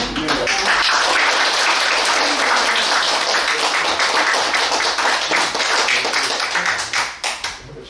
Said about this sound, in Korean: 동기화 때문에 박수 한 번만 치시고 시작하겠습니다